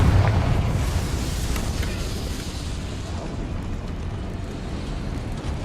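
Confringo fire spell exploding in the video game Hogwarts Legacy, a loud rumbling blast that rolls out and slowly decays into a sustained roar.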